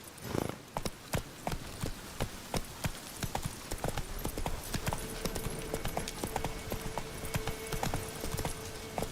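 Roach, the horse in the video game The Witcher 3, gallops with rapid, rhythmic hoofbeats that are close and loud and continue without a break. A faint steady tone joins partway through.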